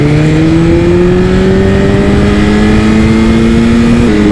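A motorbike engine running steadily and loudly close up, its tone rising slowly as it holds revs in low gear with the chain kept tight, a continuous drone with no talk over it.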